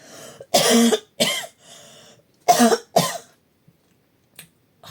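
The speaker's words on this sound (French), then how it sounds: "excusez-moi, je vais tousser" Four rough, hacking coughs in two pairs, close up, then quiet with a couple of faint clicks.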